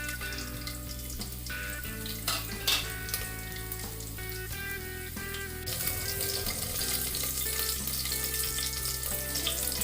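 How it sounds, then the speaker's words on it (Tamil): Ginger and green chilli fry in a hot pressure cooker, giving a steady close sizzle with faint clatter and a low background hum, and the sizzle grows a little louder partway through. "குக்கர் ஹீட் ஆனதும் நம்ம கட் பண்ணி வச்சிருக்கிற ஜிஞ்சரையும் கிரீன் சில்லியும் ஆட் பண்ணிக்கிறேன்"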